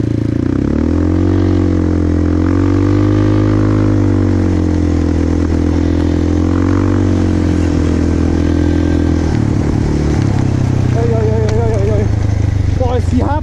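A Kymco Maxxer 300 Wide quad's engine drones steadily while riding, a loud, close harmonic hum that rises and falls slightly with throttle, with a voice briefly speaking over it near the end.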